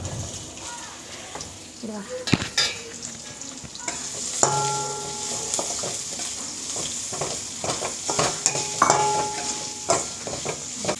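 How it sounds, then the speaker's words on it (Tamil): Finely chopped onion, added after ginger, fries in oil for rava kichadi while a spoon stirs and scrapes the pan, giving continuous sizzling with clinks, under occasional soft talking. "பொடியாக நறுக்கி வச்ச வெங்காயத்தை ஆட் பண்ணிக்கோங்க."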